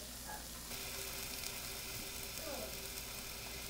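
Shrimp cooking on a hot grill, giving a quiet, steady sizzle and crackle heard close up, with a brief clatter of utensils and faint background hum.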